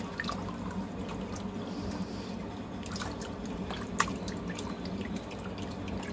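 Water runs and drips while fish liver is washed by hand, a soft continuous trickle with scattered splashes and one sharper knock, fairly faint and close, with no talking.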